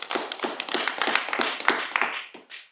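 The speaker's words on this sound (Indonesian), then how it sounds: "Tepuk tangan." Audience applause at an Indonesian religious talk, a fairly close burst of clapping with dense overlapping hand taps that fade out toward the end.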